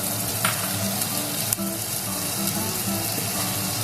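Chopped tomato hitting hot oil in a pan that already holds fried ginger and garlic, a loud, steady sizzle and crackle with faint stirring clatter and no talking.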